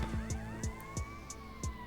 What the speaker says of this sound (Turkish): Polis siren sesleri değişmiş.